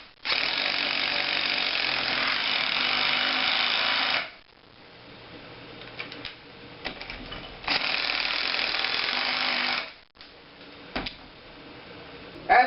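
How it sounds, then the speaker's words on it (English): DeWALT 20V MAX 1/4-inch impact driver sinking hex head Tapcon screws into pre-drilled concrete patio block, with two long, loud rattling impact bursts separated by quieter pauses and short clicks, close up. "let's run some of these hex head Tapcon screws into this patio block"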